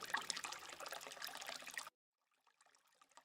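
River water flows and trickles steadily at moderate loudness for nearly two seconds, then cuts to near silence with only a faint, distant wash of water.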